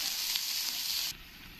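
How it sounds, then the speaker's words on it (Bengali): Onions frying in a pan make a dense, close hiss that cuts down abruptly to a quieter sizzle near the end of the brief moment. "এবার এই পেঁয়াজ কটাকে দিয়ে আমি ভালো করে লাল লাল করে ভেজে নেব পেঁয়াজগুলো"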